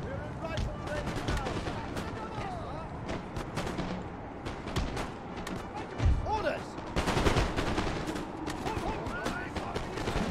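Musket volleys crackle and pop in Napoleon: Total War, dense rippling gunfire with scattered thuds from a battle, steady and fairly loud throughout.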